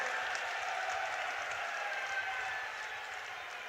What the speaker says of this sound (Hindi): एक बार जोरदार तालियों के साथ स्वागत और अभिनंदन